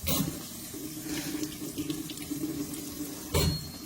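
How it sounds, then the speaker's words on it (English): Kitchen tap water runs steadily over a hand being rinsed, a close, continuous splashing rush that ends in a brief louder splash. "I'm going to rinse my hand off."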